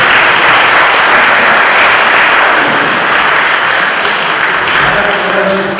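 Loud, sustained applause from a large church congregation during a Sunday service, dense steady clapping that continues throughout.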